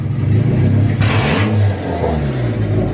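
A turbocharged car engine idles with a deep rumble, then blips once sharply, the revs rising and dropping back, loud and close in an enclosed garage.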